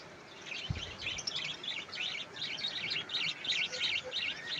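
Pet birds, a pair in a cage, give quick high chirps and tweets in repeated bursts. The calls are soft and fairly close, with one low thump near the start.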